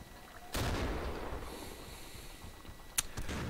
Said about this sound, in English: Okay. Enemy mortar fire on our side.